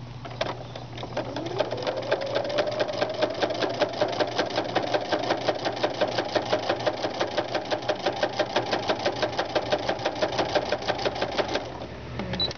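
A sewing machine runs steadily for about ten seconds while stitching a chevron quilt, driven by a foot pedal. Its rapid, even needle clatter is close and continuous, and it speeds up smoothly before stopping near the end.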